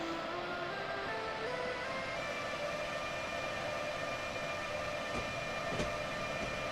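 Simulated locomotive on Austria's Semmering railway in Train Simulator 2016 pulling away, a steady rumbling cab drone with a faint sustained tone and a couple of brief clicks near the end, no voices.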